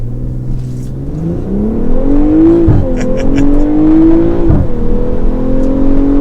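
A 2022 BMW M440i Gran Coupe xDrive launching hard under launch control, its exhaust droning and rising in pitch through the revs with distinct gear-change dips, loud and close with no talk.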